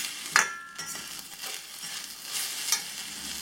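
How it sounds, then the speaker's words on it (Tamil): Okra with turmeric fries lightly in a pan, a soft crackling sizzle broken by a few sharp clinks and scrapes of a spoon stirring against the metal. "சேர்த்துட்டு லைட்டாக இதை ஃப்ரை பண்ணி விட்டுட்டு"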